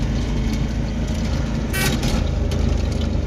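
An auto rickshaw engine runs steadily up close, a continuous low rumbling drone with a brief hiss midway, no talking over it.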